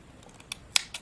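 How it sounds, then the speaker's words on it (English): Scissors snip through crochet yarn in a few sharp, close clicks, with one louder cut standing out, over a quiet background. "I'm going to cut my yarn"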